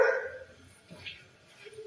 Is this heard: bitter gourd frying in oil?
no